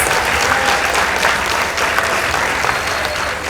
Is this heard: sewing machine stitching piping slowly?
no